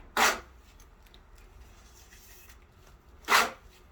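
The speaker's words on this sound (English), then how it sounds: "I'm using this little itty bitty trowel. Lets me control my texture." A small hand trowel scrapes stucco texture onto a wall in two short, loud rasping strokes separated by a few seconds of near quiet.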